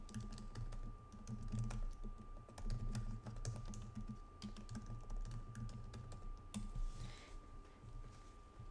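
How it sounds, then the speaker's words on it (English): Rapid typing on a computer keyboard, a steady stream of close, crisp key clicks with irregular rhythm running throughout over a low background hum. "Let me type it in here."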